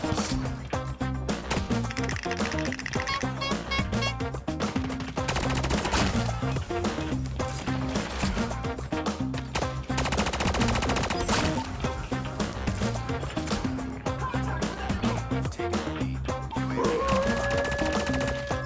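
Gunfire in the mobile shooter game Call of Duty Mobile: dense, rapid shots and impacts run continuously over loud game music and effects for the whole stretch.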